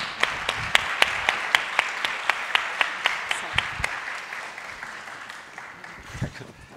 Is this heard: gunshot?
no